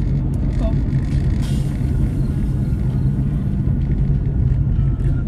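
Heard from inside a car driving on the road: a loud, continuous low rumble of engine and road noise with no breaks.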